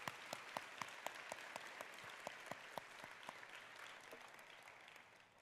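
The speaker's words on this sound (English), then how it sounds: "Let's give them a round of applause." Audience applause at a university convocation, a crowd clapping in a large venue with several sharp, distinct claps near the start, gradually thinning and fading toward the end.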